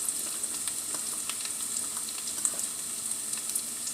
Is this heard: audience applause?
no